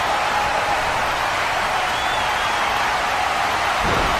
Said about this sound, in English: Listen to this crowd. They are going bananas.